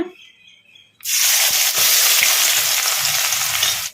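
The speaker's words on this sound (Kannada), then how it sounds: "ಈಗ ಇದಕ್ಕೆ ಸಣ್ಣದಾಗಿ ಕಟ್ ಮಾಡಿ ಇಟ್ಕೊಂಡಿದ್ವಲ್ಲ ಉಳ್ಳಾಗಡ್ಡಿ, ಈಗ ಇದನ್ನು ಹಾಕೋಣ" Chopped onion hitting hot oil in a kadai bursts into a loud, continuous sizzle after a second of near quiet, with a few faint stirring knocks underneath.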